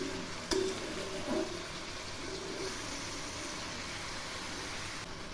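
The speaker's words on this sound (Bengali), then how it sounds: "শাকগুলো আবারও একটু নেড়ে দিচ্ছি।" Data shak (amaranth stem greens) with turmeric, stirred and frying in a pan for a vegetarian dish. There is a soft, steady sizzle with an occasional scrape of the spatula, faint and alone.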